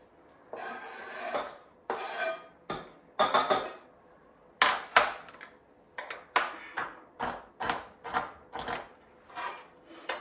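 Chopping board sliding and scraping across a kitchen counter while chocolate-orange truffle mixture is chopped, a dozen close, irregular rasping bursts with knocks, quiet pauses between, no talk.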